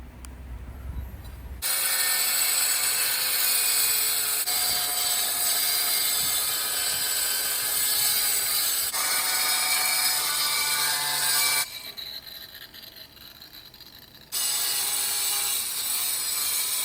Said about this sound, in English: I'm going to take that outside and use my grinder and cut that